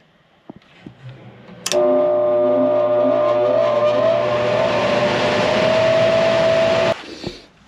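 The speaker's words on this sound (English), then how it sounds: "I hear my compressor outside running" An outdoor air conditioner compressor starts up after a few clicks, then runs as a steady mechanical hum and whine for several seconds before stopping abruptly.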